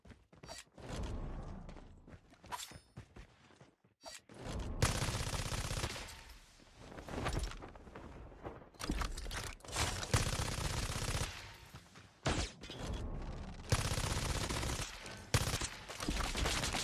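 Gunfire in a Call of Duty: Mobile match, with loud bursts of automatic fire and volleys in several clusters, broken by brief quiet gaps and footsteps, close and harsh.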